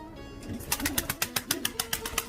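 A tumbler pigeon, an original Sivas bird, beats its wings in a steady series of close, sharp flaps.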